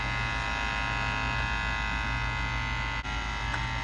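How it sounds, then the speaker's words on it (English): An inverter-controlled compressor in a GE side-by-side refrigerator runs hot with a steady electrical hum and buzzing drone, constant and fairly loud, with one faint click partway through. "It's definitely coming from the compressor."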